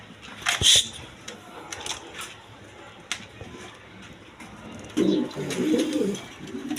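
A pair of Rajgolla pigeons coos in a low, burbling run near the end, after a few scattered sharp chirps and clicks from the loft, with no one talking.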